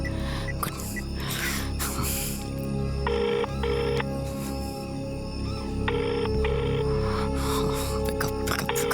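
A telephone rings in repeated paired electronic bursts at a steady rhythm, fairly loud over a quiet room tone with no talking.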